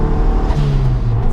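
A Mazda MPS engine pulls hard at around 4,000 RPM in fourth gear, a close, steady throaty drone with a rising whirring tone, brief and loud with no voices.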